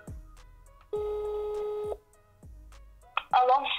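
Phone ringback tones while calling about a cleaner job ad, two evenly spaced long beeps with a pause between, clear and close, followed by a brief voice at the end.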